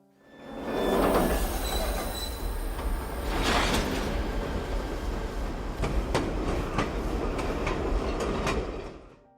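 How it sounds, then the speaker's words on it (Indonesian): A train moves off with a steady rumble, rail clatter and high metallic wheel squeals that rise and fall, fairly distant and continuous with no talk. "tiba-tiba mesin kereta hidup dan kembali berjalan"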